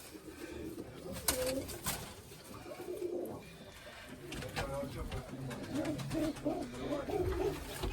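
Crested, shaggy-footed pigeons coo steadily in a loft in Kamianske-Karnaukhivka, with repeated soft low coos at close range, some sharp clatters and someone talking over them.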